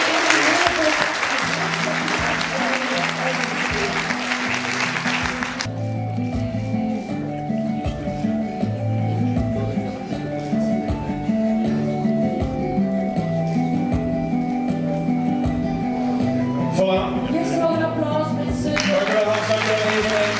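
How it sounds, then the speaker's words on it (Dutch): An audience gives hearty applause at the BeNe prize award ceremony for the winner of the comic-strip prize, a dense, steady clapping that carries on for about twenty seconds. "Een hartelijk applaus voor Steve, de winnaar van de BD-prijs."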